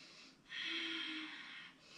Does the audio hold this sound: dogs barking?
no